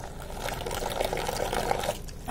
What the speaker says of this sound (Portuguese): Vou colocar a água aqui.